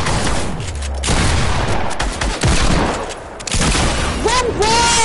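Gunfire in a one-versus-one shooter video game, dense and loud, with rapid overlapping bursts filling most of the stretch, while players talk over the shooting.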